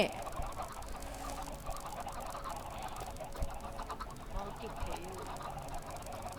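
A Minecraft chicken gives faint, scattered clucks in the game, low in the mix beneath a player's ongoing talk and background game noise.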